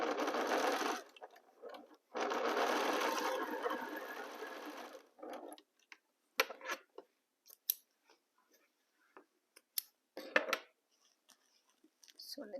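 A sewing machine stitches quilt rows in two long, close whirring runs, then short bursts with quiet gaps and small clicks of handling fabric.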